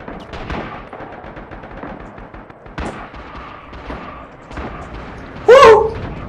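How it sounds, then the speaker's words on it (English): Sharp bursts of gunfire and blasts in the video game Red Orchestra 2: Rising Storm, with a louder explosive hit near the end over a steady battle din. "More explosions."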